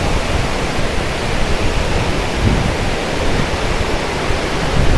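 A waterfall in Tago, Surigao del Sur, Philippines pours with a steady, dense roar of falling water, heard close and loud throughout with no voices.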